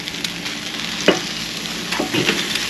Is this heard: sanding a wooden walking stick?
no